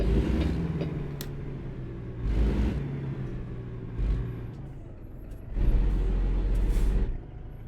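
A truck in American Truck Simulator releases air brake hisses in bursts, broad whooshing blasts over a low engine rumble, with three or four separate releases spread across the stretch.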